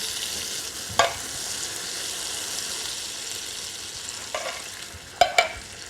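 Chopped canned tomatoes tipped into a hot pan used for lamb meatballs. The sizzle and stirring run steadily, and a few short clatters and splashes stand out near the start and the end. Nobody speaks.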